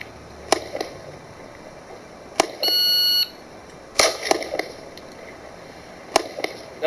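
An electronic shot timer gives a single sustained beep lasting under a second, set between sharp, loud gunshot cracks from a shooting drill at steel targets.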